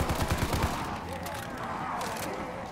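Gunfire in Call of Duty Zombies, a quick rattle of several close shots at the start, then a steady hum of game ambience as firing stops, with faint talk.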